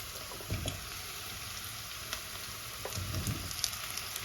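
Potato pieces added to a hot pot sizzle steadily and fairly quietly, with brief louder bursts and clatter as pieces drop in, and no talk.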